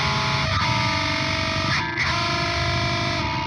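A heavily distorted electric guitar drones through a Pitch Fork pitch-shift pedal, thick and buzzing, with a brief dropout and a shift in tone partway through.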